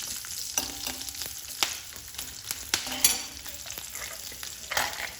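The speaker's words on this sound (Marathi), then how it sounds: "1 इंच आल्याचे तुकडे आणि 2 हिरवी मिरची. याला थोडंसं भाजून घ्यायचं." Garlic cloves, ginger pieces and two green chillies roasting in a pan, a light continuous sizzle with repeated spatula scrapes and clicks, close by.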